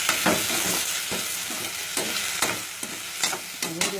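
Tomatoes and mushrooms sautéing in a pan for kulambu over medium flame, a steady close sizzle broken by repeated scraping and stirring knocks of a spoon against the pan.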